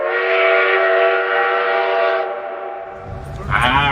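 A passenger train's horn sounds one long, loud, sustained chord close by as the train departs Los Angeles for New York, fading near the end as a voice begins speaking.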